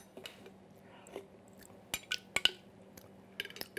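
A metal spoon clinks against a dish while tasting a light vinaigrette, several sharp close taps and scrapes scattered over a few seconds in a quiet kitchen.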